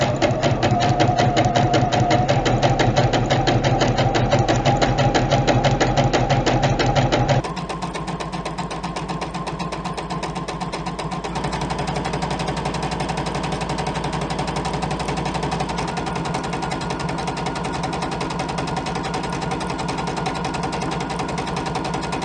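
A JUKI sewing machine fitted with a fringe foot stitches fringe in a steady, loud, rapid mechanical chatter that runs continuously throughout, shifting slightly in pitch partway through, with no talking.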